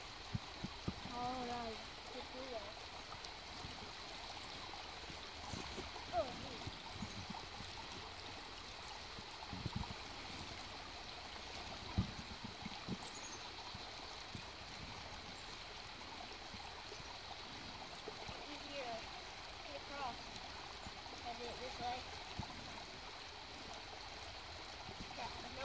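A stream flows beneath a bridge outdoors, a steady broadband rush of moving water heard close, with faint voices occasionally under it.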